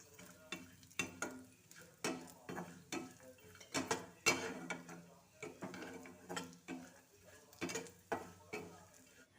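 Cashews, almonds and raisins roasting in ghee in a pan, with a soft sizzle under repeated rhythmic stirring scrapes about once a second, close and steady.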